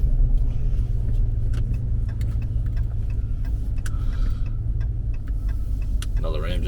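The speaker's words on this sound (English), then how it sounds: "Another Ram just drove past." A Dodge Ram pickup truck drives past outdoors as a steady, loud low engine and tyre rumble that holds throughout, with a voice briefly heard near the end.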